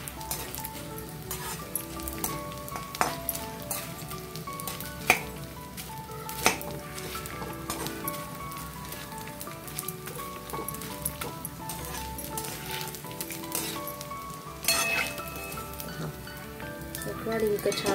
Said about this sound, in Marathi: तळण्यासाठी व्यवस्थित तूप घालायचंय, त्यामुळे मग डिंक छान फुलतो।